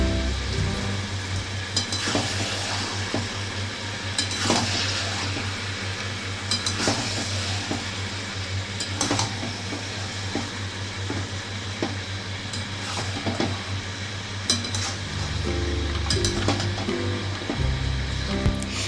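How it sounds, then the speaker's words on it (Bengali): Fried chicken is tossed into a sizzling chilli chicken mix in a pan, with steady frying hiss under irregular scrapes and clinks of a spatula stirring against the metal. "এরপর দিয়ে দিতে হবে ফ্রাই করা চিকেনগুলো, সেগুলো দিয়ে ভালো করে আবার মিশিয়ে নিতে হবে।"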